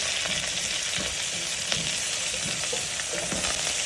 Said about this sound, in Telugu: పచ్చిమిర్చి, ఇలా పచ్చిమిర్చి ఫ్రై అవుతుండగానే ఆనియన్స్, కరివేపాకు,